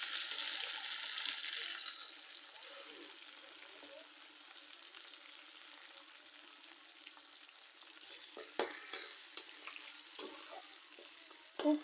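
Gonia shutki, dried fish, fries in a pan with chopped onion and garlic, giving a soft, faint sizzle with a brighter hiss at first, then a few light clinks and scrapes of stirring.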